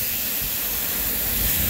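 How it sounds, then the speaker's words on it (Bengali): Black and white mustard seeds tempering in hot oil give a steady, loud, dense sizzle and hiss that fills the whole stretch without a break, with no talking. "দেখুন বন্ধুরা, আমি ফোড়ন দিয়ে দিয়েছি।"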